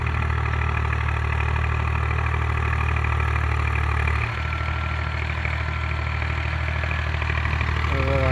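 A Zetor 6341 tractor runs steadily while rotary tilling a sloping field. Its constant low engine drone dips slightly midway and carries on without a break.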